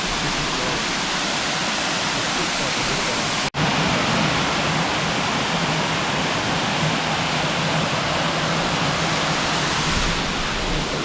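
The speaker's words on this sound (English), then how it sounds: "So this is Splitters Falls right behind me." Splitters Falls in the Grampians, a modest waterfall pouring steadily, produces a constant broadband roar of falling water, loud and close, with a brief dropout partway through before the rush resumes unchanged.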